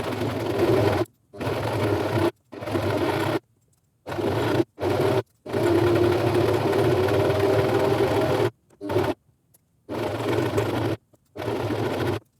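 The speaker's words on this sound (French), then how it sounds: "On va donc coudre tout autour, sauf une ouverture sur le côté." A sewing machine stitches around the edge of a fabric bonnet, its motor whirring steadily in bursts of a second or several seconds, broken by short silent pauses, close and fairly loud.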